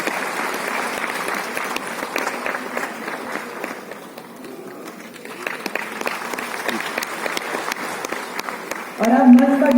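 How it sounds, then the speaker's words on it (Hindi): Steady applause welcoming a speaker onto the stage at a CPWD foundation day ceremony, dense clapping throughout, swelling near the end as music begins. "जोरदार तालियों से स्वागत कीजिए श्री पुर्णेश कुमार"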